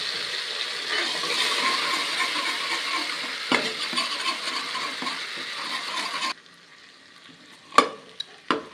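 Turmeric stirred into water is poured onto onions frying in oil for rice tahari, giving a steady, fairly loud sizzle that suddenly drops away, followed by a few sharp clinks of stirring.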